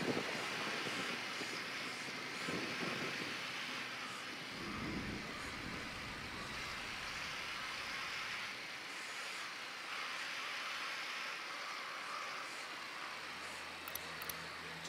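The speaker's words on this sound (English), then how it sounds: "Drone is airborne." A reconnaissance drone flies in Ghost Recon Wildlands, giving off a steady airy whir blended with wind-like hiss that holds continuously at an even level throughout, with no voices.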